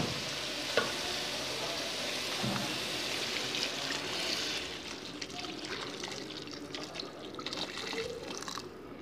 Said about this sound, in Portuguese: Vou dar uma outra mexida e vou colocar água quente